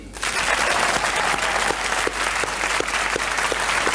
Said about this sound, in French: commençons tout de suite avec notre candidat d'aujourd'hui que je vous demande d'applaudir